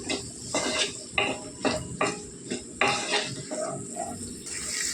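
Onions fry in a pan with turmeric while a spoon stirs them, making a repeated clatter of scrapes and knocks over a soft sizzling bed, close and steady.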